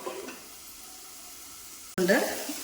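Onions frying in hot oil in a pan for a raw banana (plantain) masala stir-fry, a faint low sizzle that bursts into a sudden loud, bright crackle near the end.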